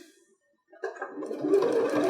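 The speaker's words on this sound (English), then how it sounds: "I let my machine do a couple of stitches" A domestic sewing machine stitches fabric for a 3D mask near elastic, starting after a brief pause and running steadily with a dense whirring buzz that builds louder and stays close, with no voices.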